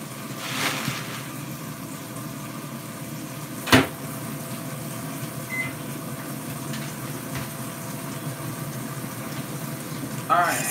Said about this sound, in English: So I'm gonna get this in the microwave and heat it up.